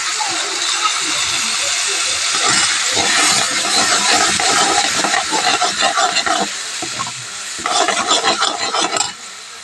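Water hits a hot pan of red chilli powder, masala, turmeric and salt, bursting into a loud, close, steamy hiss that settles into bubbling and stirring clatter.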